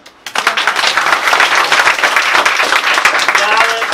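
Sudden burst of audience clapping during a film-editing masterclass, starting abruptly after a quiet moment and continuing dense and fairly loud to the end.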